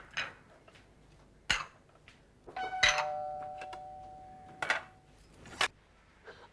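Doorbell in a home rings several times, each sharp chime sounding separately, with one longer ringing tone in the middle and short pauses between the rings, close and clear with no voices.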